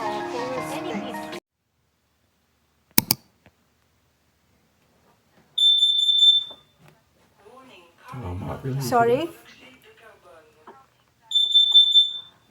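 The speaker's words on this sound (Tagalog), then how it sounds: "suddenly the alarm goes off" A household smoke alarm beeps in high piercing bursts in an upstairs bedroom, two separate sounding spells with people talking between them and a brief clatter earlier.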